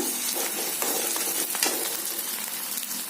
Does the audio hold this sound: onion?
yes